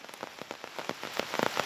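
Heavy monsoon rain pouring down in a flooded areca plantation beside the swollen Netravati river in Dakshina Kannada, a steady hiss of drops with irregular louder patters, fairly quiet and with no voices.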